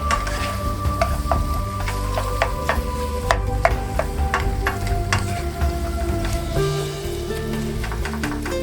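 Mongolian beef is stirred in a hot pan of garlic and ginger sauce, giving a steady sizzle broken by repeated sharp scrapes and clicks of the utensil against the pan.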